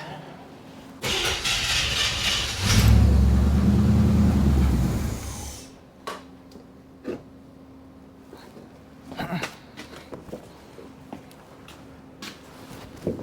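An engine fitted with a Quadrajet carburetor on a 1-inch spacer cranks and catches, roaring loudly for a few seconds before cutting out, followed by scattered clanks and faint knocks in a garage.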